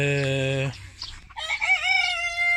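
A chicken calls loudly and close by, a long drawn-out crow followed by a burst of excited clucking.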